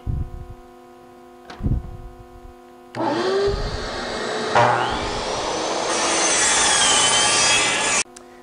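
Wood pieces being cut on a saw for a display board and primer press stands, a couple of knocks, then a loud, sustained whining cut that runs for several seconds before stopping abruptly.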